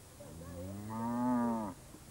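A single long cow moo, clear and fairly close, rising and holding before cutting off, with quiet background otherwise.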